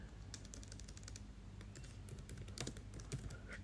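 Typing on a computer keyboard while entering text into a form in Visual Studio, a steady run of quick, light key clicks with a few louder taps, close and clear over a low hum.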